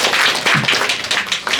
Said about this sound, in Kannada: ಚಪ್ಪಾಳೆ ಹೊಡಿ